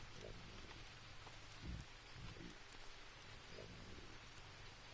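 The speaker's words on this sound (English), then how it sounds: "I guarantee it's not drying because it's raining on it." Steady rain falls in the survival video game Green Hell, a constant hiss of drops on leaves and surfaces, with a few soft low thuds and rustles, quiet and unbroken throughout.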